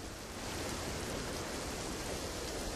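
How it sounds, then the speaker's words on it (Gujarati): Heavy monsoon rain pours down steadily in Dhoraji, Rajkot, Gujarat, a dense, continuous wash of noise with no pauses and no voices. "આ સતત છ દીથી વરસાદ આમનામ ચાલુ છે"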